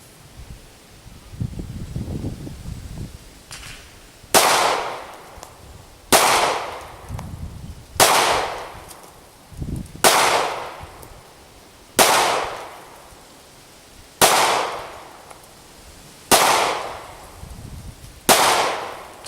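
Ruger LC9 pistol firing Fiocchi ammunition at 5 yards: eight sharp, loud, close shots spaced about two seconds apart, each followed by a short echo, after some quiet handling noise at the start.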